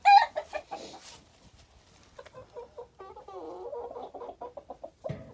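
Ornamental hens cluck in a series of close, short, repeated calls, with a brighter cackle near the start and a steady run of clucks after that.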